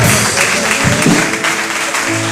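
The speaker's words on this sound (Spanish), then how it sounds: "¿Cuánto le puedes dar un aplauso al Señor Jesús?" A church congregation applauding during a Spanish-language service, a loud, continuous wash of clapping that fills the whole moment without a break.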